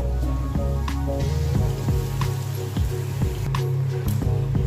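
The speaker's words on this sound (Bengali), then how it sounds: "খিচুড়ি দেখো আমার প্রায় হয়ে এসছে, এটা আরো এখনো ফুটবে।" Khichuri boils in a pot, with soft bubbling pops and wet plopping bursts repeating irregularly at close range over a low steady simmer, and no voices.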